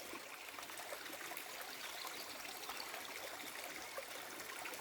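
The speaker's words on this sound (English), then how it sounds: "beautiful stream" A freshwater stream flows beneath a full tree canopy, a steady, faint trickling and babbling of water that continues evenly throughout with no other sounds.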